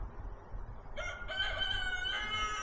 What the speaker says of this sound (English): The rooster. He's calling me probably so he can peck me